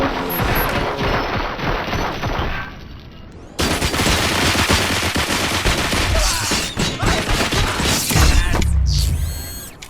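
Gunfire in RoboCop: Rogue City, dense bursts of automatic and rapid shots with mechanical clatter, loud and close, filling nearly the whole stretch with a brief lull early on.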